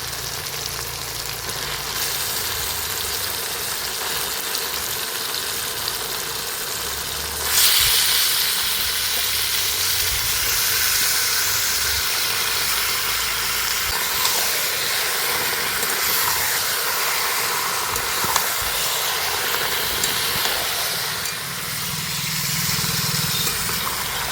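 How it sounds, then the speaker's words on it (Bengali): Chicken marinated in lemon juice goes into cooked-down spiced masala in hot oil for a rustic Bengali chicken curry. A steady broadband sizzle and hiss runs throughout and jumps noticeably louder partway through, with no talking. "মশলাটা কষানো হয়ে গেছে তেলও ছেড়ে গেছে এই পর্যায়ে আমি চিকেনটা দিয়ে দিচ্ছি"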